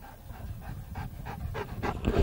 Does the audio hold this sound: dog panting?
yes